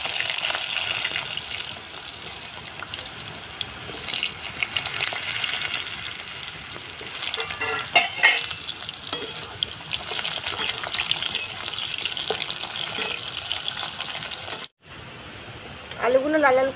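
Potatoes fry in a pan with panch phoron, giving a steady close sizzle for the whole stretch with scraping stir noises and a brief cut near the end; a voice talks over part of it.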